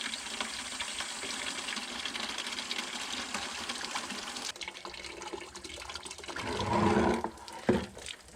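Water is flushed through a car's cooling system, a steady rushing hiss that grows into a louder gurgling gush near the end.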